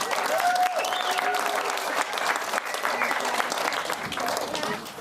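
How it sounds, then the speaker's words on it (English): A crowd at a polocrosse tournament awards ceremony breaks into sustained, loud applause that fills the whole stretch evenly, with a few voices and a faint whistle running beneath the clapping. "So big round of applause for that."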